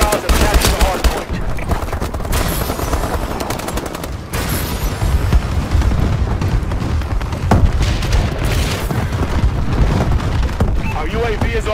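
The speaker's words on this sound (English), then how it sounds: "Friendly bombing run incoming." Dense, loud Call of Duty Advanced Warfare multiplayer firefight with a friendly bombing run, rapid gunfire and booming explosions piling up continuously over about twelve seconds, with game announcer voices mixed in.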